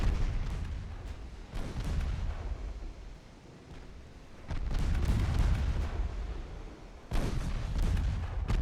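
Battleship secondary guns firing at close range in the naval game Ultimate Admiral Dreadnoughts, early 1900s fleet battle: heavy, rumbling booms in overlapping waves, three loud surges of gunfire with low roaring tails between them.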